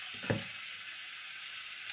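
Spices, turmeric and Kashmiri chilli frying in a pan, a steady soft sizzle with one brief stirring scrape near the start.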